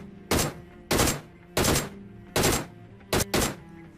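Gunfire in PUBG Mobile comes as six sharp, loud bursts spaced about half a second to a second apart, two of them in quick succession near the end, with no talking.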